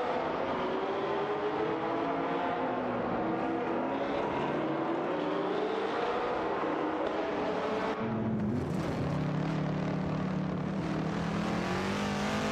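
Race car engines, a Porsche and a Ferrari, in a racing video game, droning steadily with whining tones that rise and shift in pitch as the cars battle, heard alone and fairly faint.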